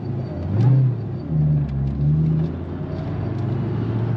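An 800HP Cobra car drives on the road in first gear, its low engine rumble rising and falling as it accelerates in a few surges, heard from inside the cabin.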